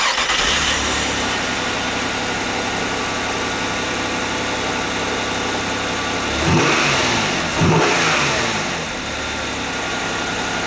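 Nissan Maxima with an overheating and long-crank fault running at a steady idle, then giving two quick revs that swell and fall back, heard close with no talk.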